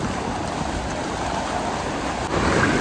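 Rough, storm-whipped sea waves surge around a boat on a fishing trip, a loud, continuous wash of surf with wind buffeting the microphone.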